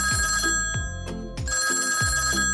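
A telephone bell rings in repeated loud bursts at close range, with no other sound around it.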